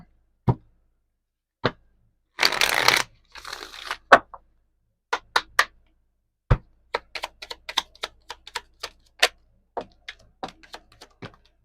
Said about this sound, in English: we'll get some oracle cards before you go